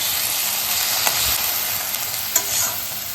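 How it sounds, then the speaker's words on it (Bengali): Vegetables for chicken soup fry in a pan, giving a loud, steady sizzle. A couple of stirring scrapes break through it, with no talking. "চলো এটা একটু ভেজে নিয়ে দেখাচ্ছি"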